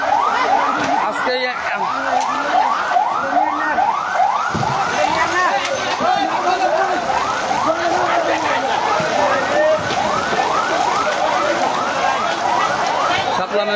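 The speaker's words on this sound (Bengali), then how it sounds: "ফায়ার সার্ভিস চলে এসেছে" A fire service fire engine arrives at a blaze with its siren wailing in rapid, repeated rising-and-falling sweeps, loud and close throughout, while voices murmur faintly underneath.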